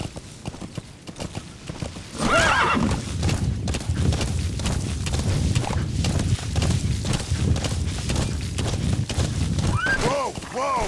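Horse whinnies and hoof clip-clop from Metal Gear Solid V: The Phantom Pain, with a rising neigh near the start and another near the end over steady galloping, mixed with game voices and effects.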